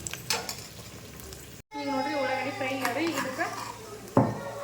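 Chopped vegetables and onion sizzle in a pan beneath a voice, a soft frying hiss with a few utensil taps as she talks, the sound cutting out briefly partway through.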